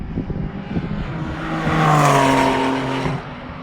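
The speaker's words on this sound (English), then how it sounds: "Tesla is about to pass the GTR" A Tesla passes a Nissan GT-R on a race track, and the engine whine swells as the cars draw near. A rising, then falling tone peaks around the middle before the sound drops away.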